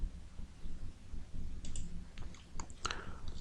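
Quiet keyboard typing and mouse clicks on a computer, sparse at first, then a cluster of crisp, close clicks and keystrokes toward the end.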